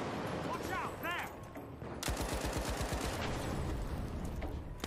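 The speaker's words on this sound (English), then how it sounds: "Why are you shooting at me?" Gunfire in The Finals: after a few seconds of game noise and a brief chirp, a rapid automatic burst erupts with dense, evenly spaced shots for about two seconds, loud and close, then fades, with talking over it.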